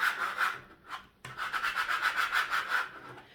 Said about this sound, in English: I'm going to go ahead and use my scraper.